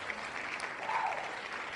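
Faint applause from a crowd, a soft steady patter of clapping that sounds thin and distant, lasting only a couple of seconds.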